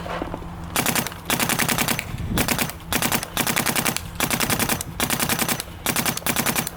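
Dye CZR+ and Empire Axe 2.0 paintball markers fire rapid strings of sharp pops outdoors, loud and close, with repeated bursts broken by short gaps.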